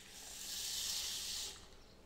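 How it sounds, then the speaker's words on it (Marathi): Water pours onto jowar and fenugreek seeds in a soft, close hiss that swells for about a second and a half, then fades out. "आता ह्याच्यात आपण पाणी घालून घेऊ"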